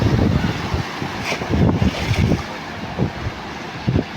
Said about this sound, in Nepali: यहाँ गाडी यसरी हिँडिरहेछ, यतिसम्मको पानी परिरहेछ दुबईमा